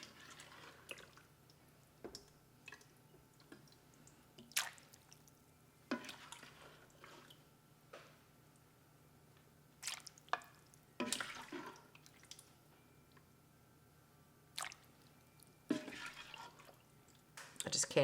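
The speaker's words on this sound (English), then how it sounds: "I'm gonna ladle in all of this gravy here" Cranberry mushroom gravy with onions is ladled into a Ninja Foodi pot holding brisket, giving soft, scattered splats and drips that are quiet and spaced apart, with faint room noise between them.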